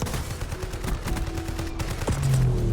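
Rapid gunfire bursts from Call of Duty Warzone, sustained dense shots over a steady game background, with a heavier low boom near the end.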